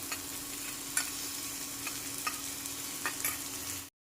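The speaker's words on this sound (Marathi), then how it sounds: "आता ह्या ज्या भाज्या आहेत आपल्या 2 मिनिट परतून झालेल्या आहेत" Tomato, capsicum and carrot for Chinese-style masala Maggi sautéing in a pan, a steady low sizzle broken by several spaced spatula scrapes and taps, close and quiet, cutting off abruptly at the end, no speech.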